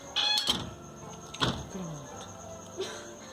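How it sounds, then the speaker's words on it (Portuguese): A door closed at night in a house, a sharp clunk and knock with a creaking slide, followed by softer bumps and a faint squeak, quiet surroundings. "Fecha a porta."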